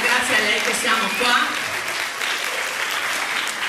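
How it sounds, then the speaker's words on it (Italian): Loud, dense applause from an audience at a school choir concert, honoring a woman being thanked, steady and close throughout with a few voices mixed in. "a cui facciamo un applauso"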